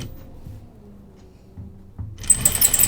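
A home sewing machine with a size 16 needle stitches a tunic, starting abruptly after a quiet stretch with a loud, fast motor whir near the end.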